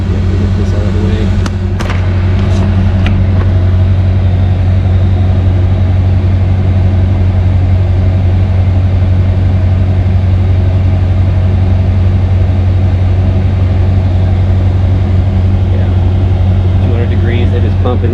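A diesel heater in a truck camper drones on steadily with a low hum and a whooshing blower, close and constant, while a person talks over it.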